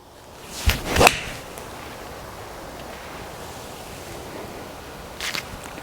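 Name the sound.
golf iron striking ball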